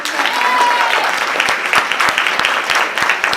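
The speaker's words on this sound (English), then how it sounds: "That deserves a round of applause." A crowd claps steadily, a dense patter of applause filling the room with sharp individual claps standing out near the end.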